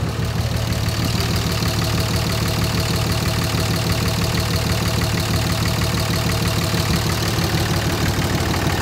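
A 2007 Dodge Ram 3500 Mega Cab with a Cummins 5.9 liter diesel idles steadily, a loud, even clattering rumble with the characteristic diesel knock, close by and with no talk.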